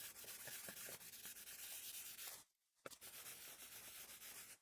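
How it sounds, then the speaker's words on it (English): Wet sanding the layer lines off a 3D printed mold for forged carbon, a close steady rasping scrub in quick back-and-forth strokes, broken by a short pause before the rubbing resumes. "what I'm doing is wet sanding off the layer lines that found their way into the 3D printed mold"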